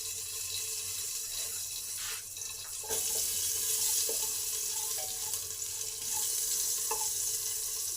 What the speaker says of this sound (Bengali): তেলটা গরম হলে একটু জিরে ফোড়ন দেবো আর একটা লঙ্কা দেবো